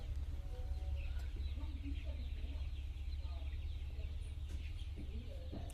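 Young month-old chickens clucking inside a poultry farm, a busy mix of soft clucks and peeps over a constant low hum of the shed.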